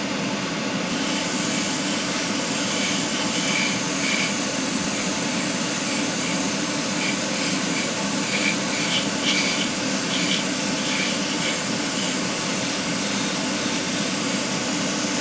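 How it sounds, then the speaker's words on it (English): Dual action airbrush spraying clear coat onto a McLaren Honda MP4-30 Ebbro scale model car, a continuous close hissing rush of air held steady and loud with no pauses. "I'm using a dual action airbrush"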